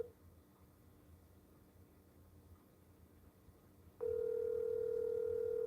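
A phone call goes unanswered. Quiet room noise is followed by a steady, loud ringback tone that starts partway through and continues to the end.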